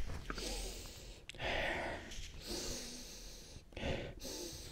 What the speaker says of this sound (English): So let's do the sniff test